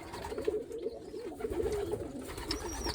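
Pigeons coo steadily in a loft, their soft rolling calls repeating close by over a constant background hum.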